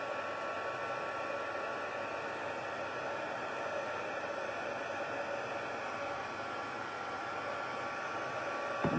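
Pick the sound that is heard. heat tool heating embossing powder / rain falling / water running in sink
heat tool heating embossing powder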